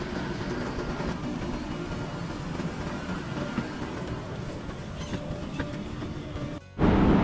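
Steady rumble and rattle of a Van Lake Express passenger train carriage in motion on the long rail journey across Turkey, continuous low clatter throughout, with a brief dip and a louder burst near the end.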